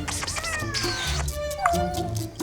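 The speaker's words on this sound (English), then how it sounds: "17-year-old Nero, a talking cat who lives with his devoted owner Simone." An elderly 17-year-old cat meows repeatedly at close range in a talkative, drawn-out way, with one higher rising yowl partway through, as a person's voice murmurs softly in the background.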